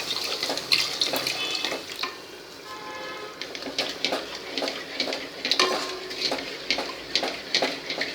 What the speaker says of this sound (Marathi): हे 300 मिलीलिटर दूध घेतलं आहे, ते आपण असं हलवून घेऊया